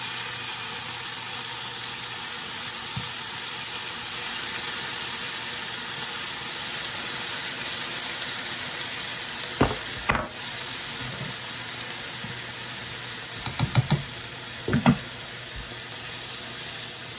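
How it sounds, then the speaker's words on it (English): Cooked ground beef with marinara sauce sizzling in a pan, a steady, broad hiss throughout with a few clinks and stirring knocks near the end, no voices. "The ground beef is done, so let me add some of this marinara sauce to it."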